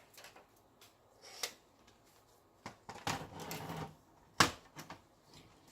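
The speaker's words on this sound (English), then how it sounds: "let's get the trimmer and fix that" Craft paper being cut on a paper trimmer, with scattered sharp clicks and knocks, a few sliding swipes of the blade and one loud snap, all fairly quiet with gaps between.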